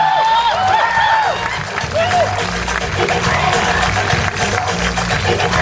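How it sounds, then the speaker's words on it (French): Applause and cheering from an audience at a pow-wow show after a trick-riding act, with a few whoops and voices rising over the steady clapping throughout. "par cet Indien qui s'appelle Guillaume, que je vous demande d'applaudir."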